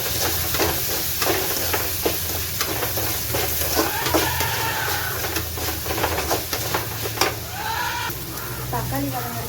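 Tomatoes with ginger and garlic fry in a pan in a home kitchen, a steady sizzle broken by repeated stirring clatters and scrapes, with brief bursts of background voices.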